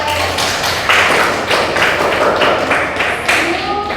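Students in a classroom give a round of hand clapping for a classmate, irregular claps from a small group sounding close and loud for a few seconds, with a little voice underneath.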